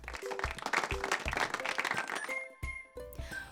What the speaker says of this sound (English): Everyone clapped for Boaz being such a loving helper to his family